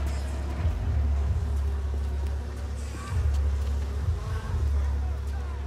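Buzzing insect swarm in the video game Bioshock, a steady low drone with pulsing swells, close and continuous throughout.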